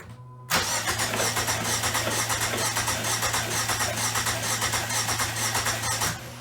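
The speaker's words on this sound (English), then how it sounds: "I'm gonna crank it a couple times. We wanna shoot that stuff out of that cylinder." An engine cranks over without a spark plug to clear its cylinder, a rapid steady chugging starting abruptly and running about six seconds at close range before stopping, with no voices.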